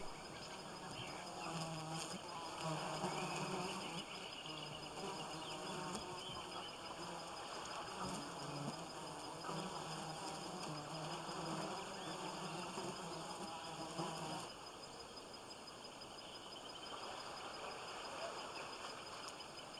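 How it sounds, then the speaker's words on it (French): A dense swarm of flies buzzes steadily around a caiman carcass in the wild Amazon, a continuous close droning hum that stays loud for the whole stretch, with no voices. "Les mouches y plongent leurs trompes."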